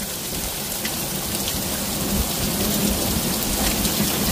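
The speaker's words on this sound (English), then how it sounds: "Hail as well. Large hail." A thunderstorm over Cheltenham, Gloucestershire, UK, with heavy rain and large hail, roars as a steady, dense downpour close by, a broad continuous wash with low rumble beneath and no voices.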